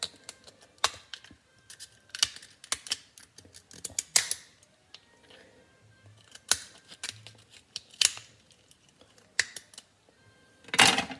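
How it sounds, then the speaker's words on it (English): Scissors snipping through soft lobster knuckle shells, a series of close, crisp cuts and clicks at irregular intervals with quiet pauses between them. "I'm just going to go ahead and cut the knuckle on each side."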